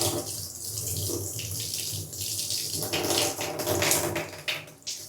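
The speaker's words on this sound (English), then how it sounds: "we are gonna do our best with this shower head to get Edita's hair wet." A shower head runs water into a bathtub while hair is being wet, giving a loud, steady splashing hiss that shifts as the spray moves and briefly dips near the end.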